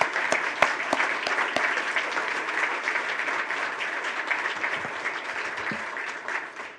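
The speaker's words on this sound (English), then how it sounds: "Let's give them a round of applause." An audience at a courts ceremony bursts into sustained applause, a dense wash of clapping with a few sharp claps standing out early, holding steady and easing off slightly toward the end.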